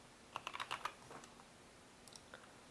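Quick bursts of keystrokes on a computer keyboard entering a search term, a short flurry of soft clicks followed by a few more taps, faint and close in a quiet room.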